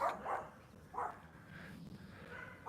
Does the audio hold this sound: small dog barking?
yes